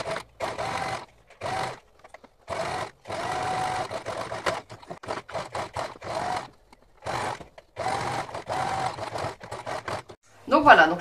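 A sewing machine topstitches a straight-stitch seam on a mesh drawstring bag, running in short separate bursts with brief silent gaps between them, fairly close, with a short burst of other noise at the very end.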